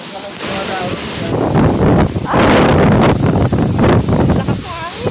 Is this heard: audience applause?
no